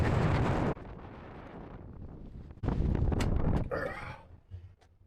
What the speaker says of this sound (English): let's just get the heck out of this wind.